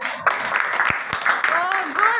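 Children clap in a classroom, a loud steady patter of hands running throughout, with a teacher's voice and children's voices speaking over it.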